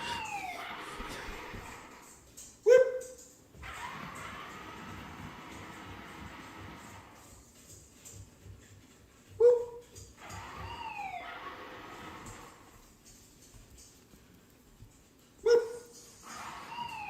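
Dogs give three separate loud sharp barks spaced several seconds apart, each standing out over a quieter background of wavering siren-like tones.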